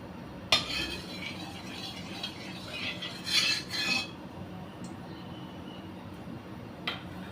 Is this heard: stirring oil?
yes